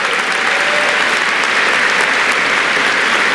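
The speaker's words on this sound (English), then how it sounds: "Let's give the Yale Choir another round of applause" A large audience at the Yale 2019 graduation ceremony applauds the Yale Choir, steady loud clapping from a big crowd that continues evenly throughout with no speech.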